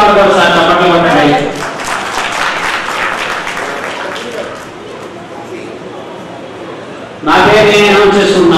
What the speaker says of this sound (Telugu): సైలెంట్ గా ఉంటారు సార్, చప్పట్లు కొట్టండి.